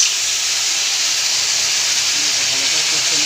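Water poured into a pan of frying potato, cauliflower and flat beans sets off a loud, steady, close hiss of sizzling that holds throughout.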